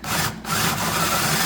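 Bit boring into wood while building a wooden toolbox, a steady close grinding and rasping run with a brief dip near the start, no talk.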